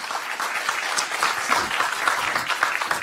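An audience bursts into applause at a talk, a thick, continuous patter of many hands clapping at once, fairly close and steady throughout with no speech over it.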